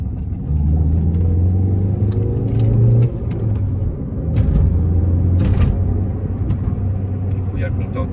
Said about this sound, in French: C'est un bon bruit d'échappement.